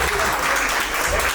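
An audience at an album release party applauds loudly, a dense and steady wash of clapping that fills the whole short burst.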